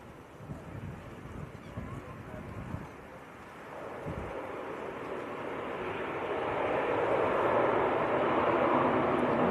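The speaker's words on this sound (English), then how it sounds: "Right, so this is Aer Lingus from Dublin." An Aer Lingus airliner arriving from Dublin passes at Leeds Bradford Airport. Its broad engine roar swells steadily louder, mixed with gusty wind noise on the microphone.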